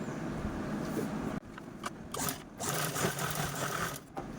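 A domestic sewing machine stitching a small leftover piece of blouse fabric, running in bursts with rhythmic mechanical whirring, brief pauses and handling noises between runs.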